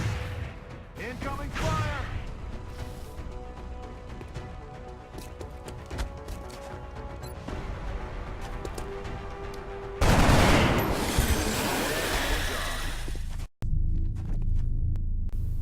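Incoming gunfire in the XCOM video game, a rattling burst of shots under a low hum and voices, with a louder noisy blast near the end that cuts off abruptly.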